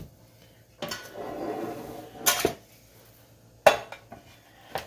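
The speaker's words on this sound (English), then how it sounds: "meatloaf pan that Dan discovered, and I'm going to plop it in there" A metal meatloaf pan picked up and handled in a kitchen, giving a rattling scrape followed by a few sharp clanks and knocks, close and alone.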